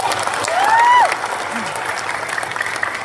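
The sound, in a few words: applause for Mas Isna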